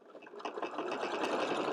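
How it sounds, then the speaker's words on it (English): Sewing machine stitching a fabric basket, a steady fast run of needle strokes that starts lighter and settles into a continuous close whir, alone without any voices. "make sure that you have that sewing machine set to stop with the needle down"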